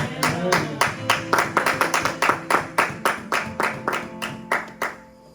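A church congregation claps together in a steady, fairly quick rhythm, a strong unison beat of many hands filling the room for a few seconds before fading.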